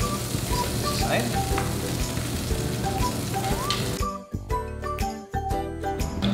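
A burger sizzles and fries loudly in a frying pan, a steady crackle with light metallic clinks, on low heat with oil and juices in the pan; the sizzle continues throughout and thins briefly in places.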